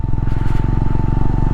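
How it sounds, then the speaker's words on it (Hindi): Loud, close motorcycle engine with a steady low throbbing rumble, ridden slowly over a snowy road near Chang La pass in Ladakh while the bike skids slightly, alone without talk. "थोड़ा सा बाइक स्किड मार रही है हल्की हल्की"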